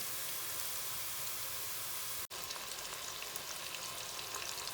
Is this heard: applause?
no